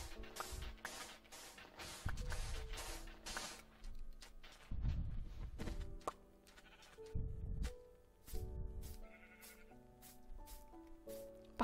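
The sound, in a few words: sheep bleating in video game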